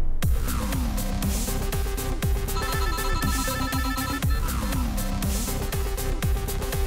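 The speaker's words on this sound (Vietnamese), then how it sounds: "Anh có điện thoại chờ anh chút." A phone ringtone in a Vietnamese crime drama scene rings continuously, a repeating electronic melody that is loud and close throughout with no talking over it.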